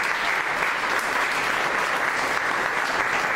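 Congregation clapping hands together in a church service, a dense, steady wash of applause sustained throughout without voices.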